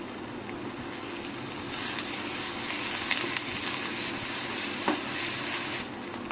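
Mustard seeds, spices and curry leaves sizzle steadily in hot oil over a low flame, a tempering for Andhra-style mango dal, with continuous crackling frying and a few sharper pops, close and alone.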